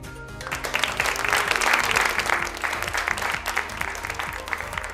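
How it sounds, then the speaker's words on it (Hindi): An audience claps loudly and continuously at a mega textile fair stage event as sari sellers are called up, the applause swelling in the middle over a steady rhythmic music bed. "प्लीज जोरदार तालियां हो जाए"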